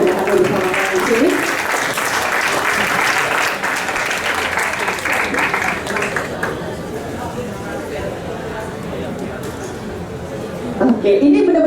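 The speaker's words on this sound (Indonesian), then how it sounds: "Boleh tepuk tangan yang meriah untuk adik dari Bapak Basuki Cahayapurnama" Audience bursts into lively applause to welcome a guest, dense clapping that stays strong before tapering off, with a voice speaking over it near the end.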